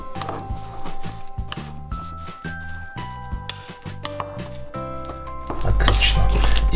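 Coconut flakes pressed and mashed into condensed milk in a bowl, heard as a run of close, rhythmic clinks and scrapes of a utensil against the dish, followed by a louder rustling squish at the end.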